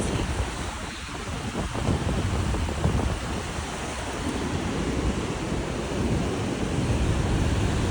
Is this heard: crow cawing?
no